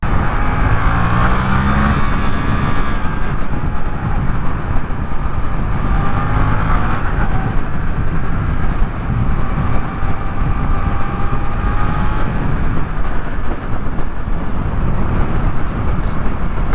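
A Suzuki 8S motorcycle cruises along a dual carriageway, its engine a steady droning hum blended with constant wind rush, loud and unbroken throughout with no talking.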